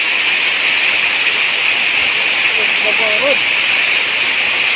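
Steady rain falls on a porang plantation field, a loud, dense hiss that holds constant throughout, with a voice speaking faintly underneath.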